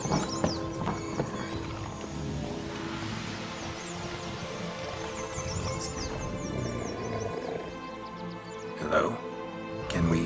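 Roach, Geralt's horse in The Witcher 3: Blood and Wine, walks with soft hoof clops and lets out a whinny, heard under a man's speech against ambient outdoor sound.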